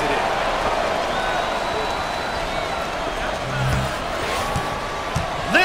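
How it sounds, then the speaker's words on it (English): Steady roar of a cheering basketball crowd in the video game NCAA Basketball 10, a dense continuous wash with faint squeaks and a bounce or two, spanning the whole moment without a break. "Man, this crowd is intense, Coach."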